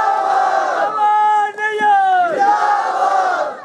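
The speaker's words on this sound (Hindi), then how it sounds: "तो जोरदार ताली के साथ लोकप्रिय विधायक पवन नैयर जी का" A crowd at an outdoor political street-corner rally chants and cheers in loud, sustained unison as a local MLA is welcomed, the massed voices rising and falling in a rhythmic slogan.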